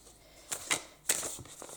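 Large oracle cards from a Spirit of the Animals deck are shuffled by hand, giving two or three soft, quick riffling slaps with faint rustling between, close and quiet with no talk.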